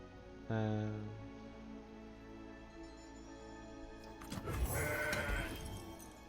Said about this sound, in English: So this is gonna try to kill my goat.